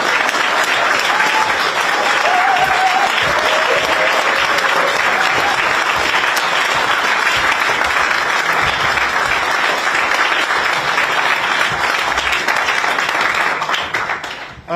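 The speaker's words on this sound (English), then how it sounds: "I want to ask you to please applaud all the staff who have also worked day and night to pull off this election." A large audience at a Green Party of England and Wales leadership election applauds the election staff, dense sustained clapping throughout that fades away at the very end.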